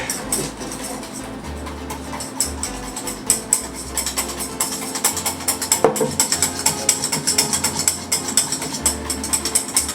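A pepper grinder grinds pepper over a bowl of mustard, honey and mayonnaise sauce for grilled pork chops, giving a steady, close, dense crunching and ratcheting that runs continuously with no talk.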